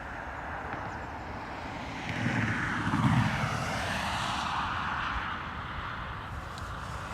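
An airliner on approach to Dublin Airport's runway 28 left in a gusty early-morning crosswind: a steady distant jet roar that swells to a peak midway, then settles back under constant wind noise.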